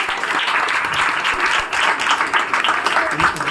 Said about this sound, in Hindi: एक जोरदार ताली चाहूंगी पहले माता रानी के लिए।